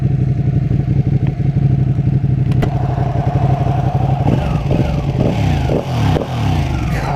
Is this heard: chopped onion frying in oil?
no